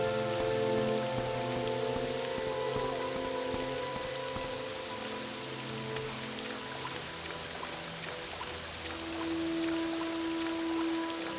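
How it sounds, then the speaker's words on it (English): Steady rain falls in the video game Morrowind, a continuous soft hiss of drops on surfaces, with faint sustained ambient tones underneath and no voices. "I love Morrowind when it rains."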